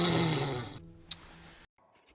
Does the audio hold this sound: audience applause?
no